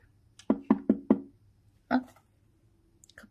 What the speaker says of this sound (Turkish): kapı, mı çaldı?